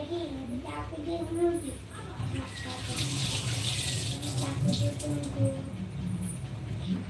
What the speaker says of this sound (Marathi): एवढी कोथिंबीर घेतली धुवून घेते